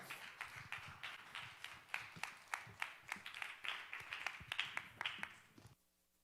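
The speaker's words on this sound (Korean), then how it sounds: "박수로 환영하겠습니다." A church audience at a Christian lecture event claps to welcome a speaker to the stage, a fairly faint, uneven patter of hands that builds slightly and then stops abruptly.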